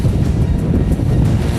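Rough sea swells off Heukdo Island batter a skate-fishing boat, a loud, continuous roar of waves and wind buffeting that fills the whole moment with no break.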